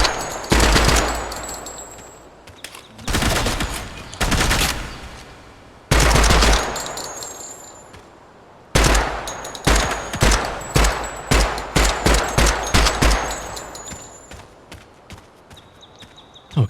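Repeated bursts of loud machine gun fire from the video game Project Silverfish, firing 5.56 and 30-06 weapons, arrive in several sustained volleys separated by short pauses, with no speech over them.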